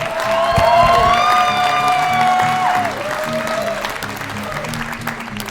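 Loud applause and cheering from a comedy club crowd at a Yakima Valley comedy festival, clapping under a rising whoop and sustained shouts, with music tones and a voice over the noise before it tapers off.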